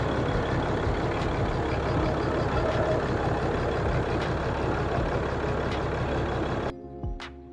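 A 2014 Ram 2500 with a Cummins diesel engine and deleted exhaust runs at a steady loud idle, a dense rumbling drone that cuts out near the end, leaving a brief quieter tail.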